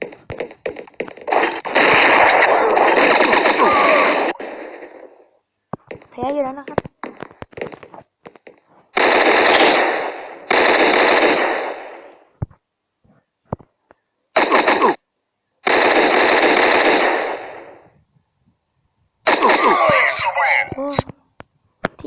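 Bursts of gunfire in the video game Crisis Action come in several long rapid volleys separated by short gaps, loud and harsh, with scattered single shots between them.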